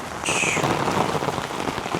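Steady rain falls on a mountain trekking route toward Everest, a dense close patter on surfaces with a brief high whistle-like tone near the start.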